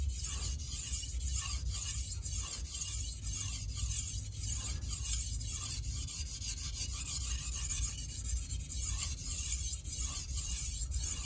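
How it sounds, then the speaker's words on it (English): Dalstrong kitchen knife blade stroked steadily across a fine whetstone, with a continuous gritty rubbing rasp in a repeating back-and-forth rhythm, close and even throughout, no talking. "Much easier on a finer stone because the knife is making more contact."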